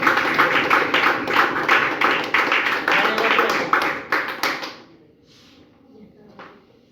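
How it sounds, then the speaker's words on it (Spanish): A church congregation claps together in a steady, rhythmic beat as an offering of applause during a sermon, loud and even for several seconds before the clapping stops and the room falls mostly quiet. "Voy a fuerte ofrenda de aplauso al Señor."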